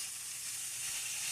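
Cooked white rice hitting a hot pan for tofu fried rice, a brief, steady close-up sizzle with bright hissing.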